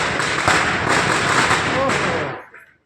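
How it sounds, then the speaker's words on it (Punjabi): Diwali firecrackers burst in a dense, loud, crackling barrage that rolls on for a couple of seconds, with a voice briefly over it, before cutting off into quiet. "ਬਹੁਤ ਜ਼ਿਆਦਾ ਪਟਾਕੇ ਦੀ ਆਵਾਜ਼ ਆਈ ਜਾਂਦੀ ਹੈ"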